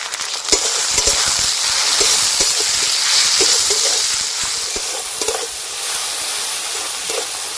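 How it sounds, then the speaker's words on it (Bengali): Chopped tomato and onion fry in a pan with black cumin and green chillies for a tangra fish curry, giving a loud, steady sizzle with frequent scraping stir strokes throughout, no voices. "পেঁয়াজ ভাজা ভাজা হয়ে গেছে, এবার দিয়ে দেবো টমেটো কুচি"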